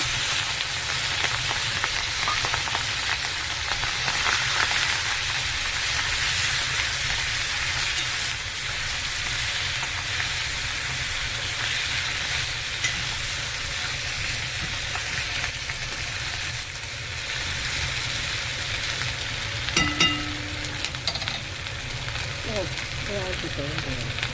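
Turmeric-coated prawns frying in a pan, a dense, steady sizzle and hiss running throughout with a low hum beneath and a few brief clinks near the end.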